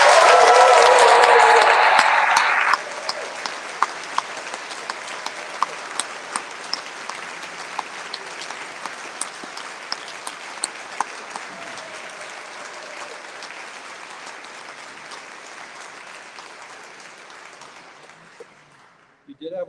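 A graduating medical class and their loved ones give a final round of applause at a hooding ceremony, a loud burst of clapping and cheering for a few seconds that drops to scattered, echoing claps fading out across a large hall.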